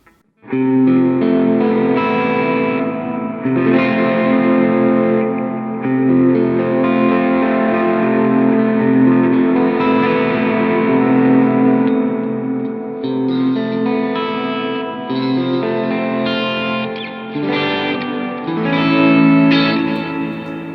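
Electric guitar played through effects, a loud sustained chord phrase with reverb and echo that shifts through several voicings and keeps ringing for about twenty seconds, with no voices.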